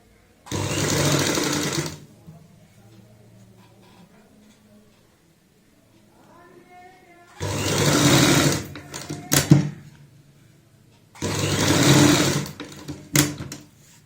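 An electric sewing machine runs in three bursts, stitching double-shade piping around a kurti neckline, each whirring run loud and close, separated by quieter pauses with faint handling sounds.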